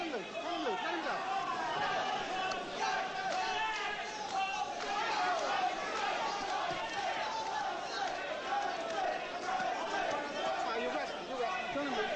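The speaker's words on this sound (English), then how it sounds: "Crowd taking up a chant of Jose." A boxing arena crowd during the eighth round of a Tyson versus Ribalta fight chants a fighter's name, a loud, continuous roar of massed voices with rhythmic chanting under the crowd noise.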